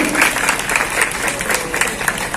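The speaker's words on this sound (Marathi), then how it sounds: "जोरदार टाळ्या." An audience at a school alumni gathering claps loudly and steadily, a dense, close burst of applause that lasts the whole moment.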